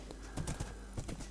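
Horse hooves clip-clop in Minecraft, a quick run of close, soft hoof knocks at a steady trotting rhythm with no one speaking.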